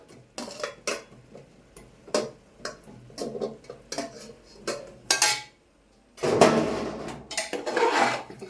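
Metal spoon clanking and scraping against a pot while mutton curry with potatoes is stirred, a series of sharp irregular clinks and scrapes, close and fairly loud, ending in a longer rough burst of stirring.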